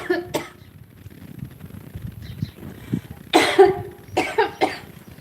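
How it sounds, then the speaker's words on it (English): Harsh coughing fits after smoking a dragon fruit and lemon heads cannabis concentrate, a few scattered coughs early then two loud, close bursts near the end, with no talk. "I hate coughing."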